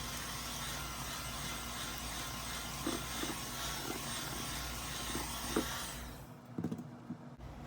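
An electric mixer blending mashed bananas into batter runs as a steady whirring drone with faint bumps of the beaters, then cuts off near the end, leaving a few soft knocks.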